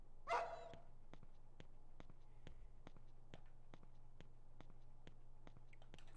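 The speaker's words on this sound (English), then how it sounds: "Dog bark." Dog in the video game Rule of Rose: a single sharp bark rings out near the start, followed by a steady series of evenly spaced clicking footsteps over a low hum.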